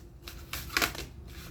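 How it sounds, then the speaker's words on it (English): A short, soft riffle of tarot cards being shuffled, a few quick papery bursts close by with no talking. "I'm going to give it a good shuffle"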